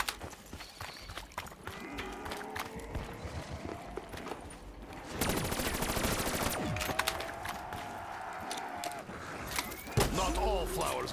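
Sustained automatic gunfire shooting spiders in Call of Duty Zombies on the Zetsubou No Shima map, rapid bursts layered over game music and effects, growing louder midway, with a person talking over it.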